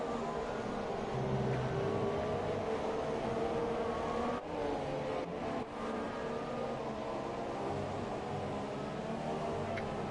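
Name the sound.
ERL Formula 3 race cars racing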